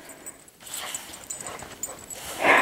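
Dogs playing outdoors in snow give short whimpers and yips, close and fairly loud, with a sharper burst of barking at the end.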